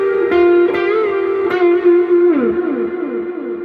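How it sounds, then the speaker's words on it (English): Electric guitar run through three overdrive pedals and a Cosmonaut saturated delay, a few sustained distorted notes ringing out with repeating echoes trailing and fading, loud and close. "It's all 3 overdrives plus the Cosmonaut, and it adds like kind of a saturated delay."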